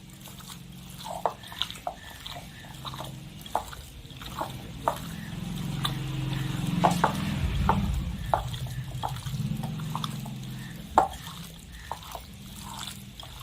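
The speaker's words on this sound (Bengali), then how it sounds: "এখন আমি চিকেনের মধ্যে লবণ ও হলুদ দিয়ে মাখিয়ে নেব।" Wet, squelchy rubbing as washed raw chicken is worked by hand with salt and turmeric, irregular sticky smacks and faint liquid sounds, close and fairly soft, no talking.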